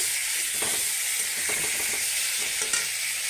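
Raw fish dropped into hot oil with fried spices for a Bengali tomato fish bhapa, giving a steady close sizzle with a few scraping stirs through the middle and end.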